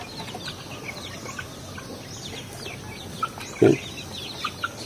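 Backyard free-range native chickens, a Rhode Island hen with her rooster, making soft clucks and scattered chirps over a busy outdoor background, with one brief louder call near the end and a short spoken word.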